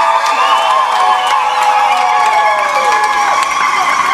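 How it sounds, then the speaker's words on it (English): A large outdoor concert crowd at a rally shouts and cheers continuously, a dense, loud roar of many voices with whistles and high cries sustained throughout. "I want to hear shouting. Where's South Africa? Make some noise."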